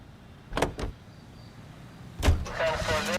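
A car in the LA Noire video game: sharp thumps of doors shutting, one pair early and another later, followed by a low engine hum and a faint whirring motor, with speech briefly present.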